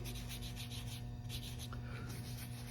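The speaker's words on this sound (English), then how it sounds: "And you can rub it with your fingers and really get this thing in." Fingers rub repair compound into a cracked engine block, a faint, steady, close scratchy rubbing that continues without pause.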